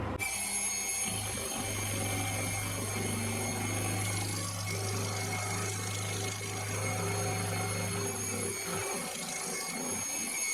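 A milling machine taking a 3 millimeter deep cut with a heavy flycutter, a steady loud mechanical drone with a low hum and high ringing tones, continuous and without speech.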